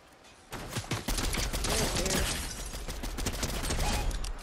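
Rapid in-game gunfire from Fortnite, a dense continuous burst of shots and mechanical clatter that starts abruptly and stays loud for several seconds.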